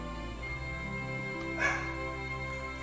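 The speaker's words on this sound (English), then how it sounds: "Please excuse the dog barking in the background." A dog barks in the background with short yips and a brief whimper, peaking near the middle over a steady hum of video game music.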